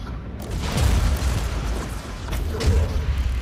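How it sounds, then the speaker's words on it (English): Artillery strike in the Warhammer 40000: Inquisitor - Martyr game, heard as a heavy, rumbling run of booming explosions with swelling low-end impacts, loud and close, with no speech. "artillery strike"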